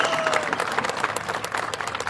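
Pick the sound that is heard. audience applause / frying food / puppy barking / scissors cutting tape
audience applause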